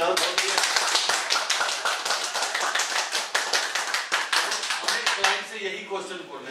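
A seminar audience claps hard in quick, sharp bursts, the rhythmic slaps fairly close and loud, with voices talking faintly underneath.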